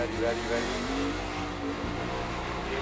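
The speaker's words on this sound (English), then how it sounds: "I think just by listening to the 48's throttle" NASCAR stock car engines at the 2013 Dover race roar and rev steadily, the throttle rising and falling, with people talking over the noise.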